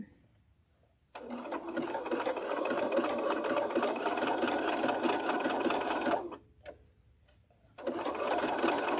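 Domestic sewing machine stitching steadily in a quilting session, a continuous close whirring run that stops briefly as the needle pauses for a pivot, then starts stitching again.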